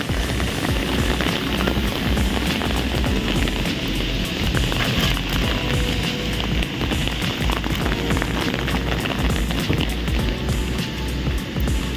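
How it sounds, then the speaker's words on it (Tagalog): Rain keeps falling on a cool, wet morning, heard as a loud, steady, dense patter of drops on surfaces with constant hiss and no talking. "Patuloy ang ulan hanggang kahapon. Mula kahapon hanggang ngayon."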